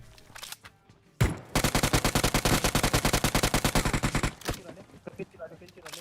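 Rapid automatic gunfire in PUBG Mobile, a loud close burst of about three dozen evenly spaced shots lasting around three seconds, with single shots before and after and a voice talking at the start.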